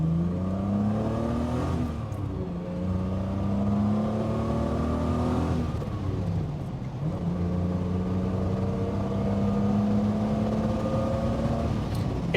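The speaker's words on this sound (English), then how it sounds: "Let's just do one more pull through the gears" A Triumph GT6 pulls hard through the gears from inside the cabin, its engine note rising in pitch in each gear and dropping with every upshift, loud and steady throughout with no talk.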